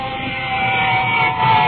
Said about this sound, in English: I can hear their sirens